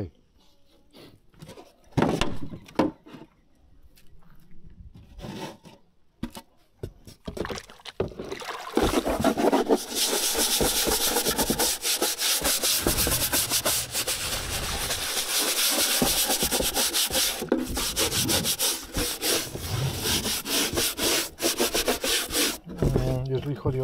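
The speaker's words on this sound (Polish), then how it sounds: "z grubsza takie wyszorowanie szczotą jest ok" A brush scrubs polystyrene beehive feeders with a continuous rough scraping, loud and close, preceded by a few scattered knocks and rustles.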